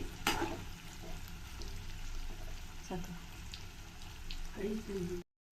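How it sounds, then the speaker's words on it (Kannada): Sweet potato pieces fry in a pan for a chaat, a steady sizzle running throughout with a few scraping stirs, close and moderately loud before it cuts off. "ಸ್ವಲ್ಪ ಫ್ರೈ ಮಾಡ್ಕೊಳ್ಳೋಣ ಒಂಚೂರು ಕೆಂಪಾಗಲಿ"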